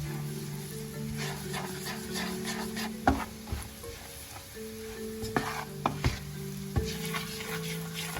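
Buttered garlic shrimp sizzles and fries in a pan while being stirred, a steady close sizzle broken by several sharp scraping clanks of the utensil against the pan, with no talking.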